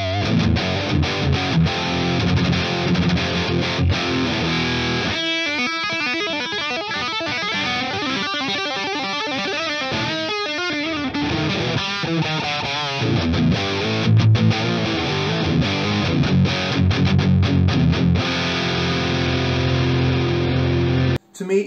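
Electric guitar played through a JCM 800 amp simulator plugin with gain and input fully maxed, giving a dense, saturated wall of distortion that sustains steadily for the whole stretch with chugging riffs, no talk.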